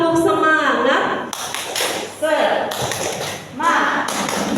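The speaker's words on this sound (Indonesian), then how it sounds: "Boleh kita praktek tepuk semangat gimana?" A group of Qur'an teachers at a motivation training session performs a rhythmic spirit clap (tepuk semangat), loud bursts of clapping mixed with voices chanting along in a room.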